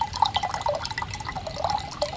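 Coconut water pours from a freshly opened coconut, a close trickle of drips and gurgles with light liquid plinks over soft background noise.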